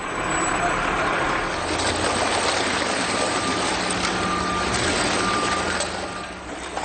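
Heavy machinery and a truck work steadily in a waste recycling centre reception hall where mixed district council waste is tipped and fed by mechanical shovel onto an in-feed conveyor, a continuous loud rumble with reversing beeps.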